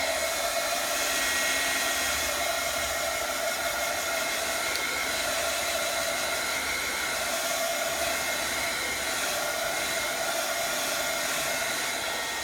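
A hair dryer or heat tool blowing steadily over wet acrylic paint on a journaling page, a constant loud airy whoosh with a faint motor whine, running alone without pause.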